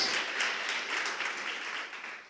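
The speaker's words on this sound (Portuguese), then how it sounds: "Você pode aplaudir o Senhor" A church congregation claps together in a short burst of dense, steady applause during a sermon, filling the room without any voices on top.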